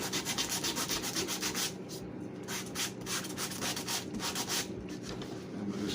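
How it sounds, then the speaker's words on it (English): Sandpaper rubbed hard with heavy pressure across a wooden frame, giving rhythmic, close, scratchy strokes in quick back-and-forth bursts with brief pauses between them. "I'm really sticking down on the sandpaper and applying some pressure"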